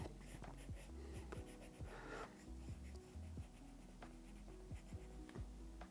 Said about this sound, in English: So I'm going to just draw out a heart, really simply